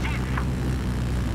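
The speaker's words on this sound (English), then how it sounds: "Attack jet coming in." Attack jet approaching in Battlefield 4: a continuous loud, rushing aircraft roar that fills the whole moment, with faint whistling tones early on.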